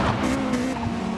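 A Subaru Impreza slides sideways in Gran Turismo Sport, tires squealing in a steady pitched whine over a continuous engine drone, heard up close without talk.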